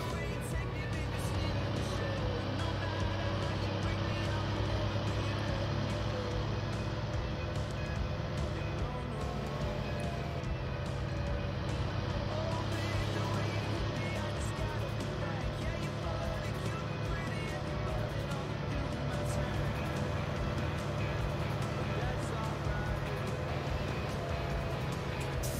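Tractor hauling the last load of hay in Farming Simulator 19, a steady low engine drone running unbroken and fairly loud, with talk over it.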